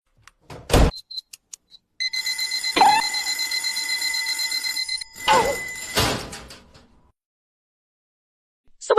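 Alarm clock ringing at midnight in a home, a sustained bright electronic ring lasting several seconds between short knocks and thuds, then a louder clatter before falling quiet.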